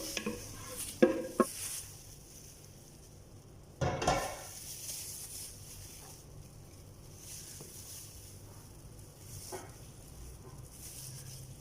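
A spoon works through sago pearls and mango dessert in a big bowl, giving a few quiet clinks and scrapes early on, a sharper knock midway, then soft faint stirring with long gaps.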